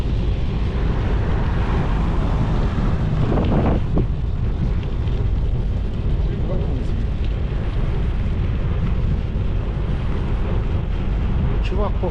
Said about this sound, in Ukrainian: ветер. Вовсю дує, прохолодно сразу стоит.